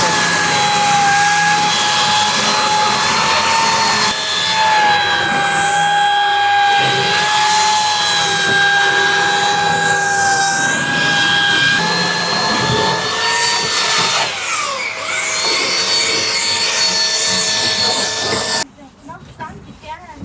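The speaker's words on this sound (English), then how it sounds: "If we want to get this job done, we need to sand and sand." A loud power sander whines and hisses continuously up close while working on homemade side extension panels for a campervan, its pitch shifting slightly as pressure changes, before cutting off abruptly near the end.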